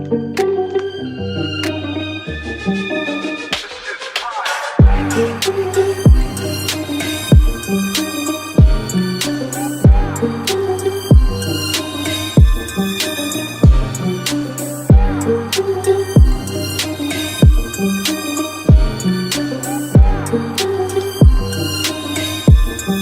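Full trap beat built around a looping piano figure, with punchy kicks, snappy hits and rolling hi-hats repeating in a steady rhythm; loud and continuous for over twenty seconds with no talking.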